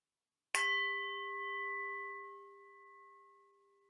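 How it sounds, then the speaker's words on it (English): A single meditation bell is struck once, a bright attack followed by a pure, sustained ring that hangs and slowly fades over several seconds in an otherwise silent room. "I'm going to start with the sound of a bell again to invite us into this sacred space together."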